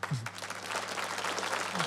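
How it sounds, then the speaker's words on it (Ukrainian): Audience applause fills a TV talent show hall, a steady dense wash of clapping that holds for about two seconds at moderate level, with a faint voice briefly over it. "ви вже, мабуть, чуєте оплески 300 пар ручок, так які аплодують вам"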